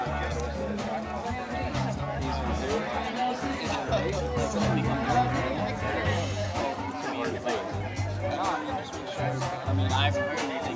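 Crowd chatter at the William H Metzger PA Clay Court Open tennis match, a steady murmur of many voices under a nearby commentator who talks throughout.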